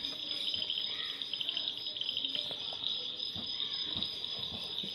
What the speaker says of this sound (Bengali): শুধু ঝিঝি পোকার ডাক আসছে